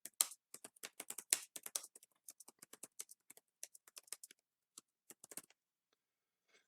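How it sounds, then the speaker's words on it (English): Rapid clicking keystrokes on a computer keyboard, close and crisp, come in a quick irregular burst that slows into sparse taps and then stops. "I'm just going to type it in."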